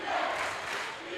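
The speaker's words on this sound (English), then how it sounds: "Defense, the cry from the crowd." A college basketball crowd fills the gym with a loud, sustained roar of chanting voices, a dense wash of sound with no single voice standing out.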